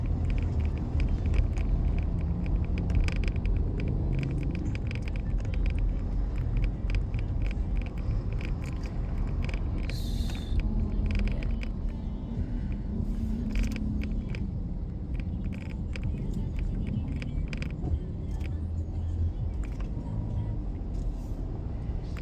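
Road traffic rumbles steadily, heard from inside a vehicle with low engine drone, occasional creaks and mechanical noises, and a voice speaking over it.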